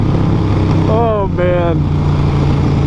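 Harley-Davidson Sportster Roadster motorcycle engine revving up as the throttle opens after leaning through a curve, a loud rising roar in two quick pulls, with a man exclaiming over it.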